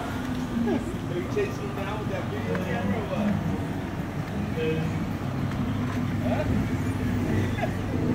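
Cars driving along an evening street in Kona, Hawaii, a continuous low traffic rumble with faint background chatter and scattered brief sounds, moderately quiet throughout.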